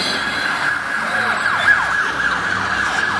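An ambulance siren wails in repeated rising and falling sweeps, fairly loud, with road traffic noise underneath.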